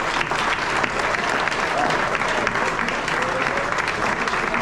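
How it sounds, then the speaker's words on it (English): A basketball banquet audience applauding, with even, sustained clapping from a room full of people at moderate loudness. "So let's give them a big round of applause."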